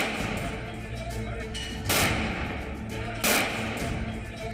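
Police fire shots during a riot in a burning town street: two sharp, loud cracks stand out about a second apart over a dense background of crowd noise and commotion.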